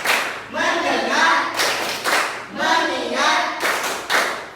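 A class of children claps the tepuk fokus rhythm in a classroom, with bursts of clapping in short repeated patterns and chanted voices between them.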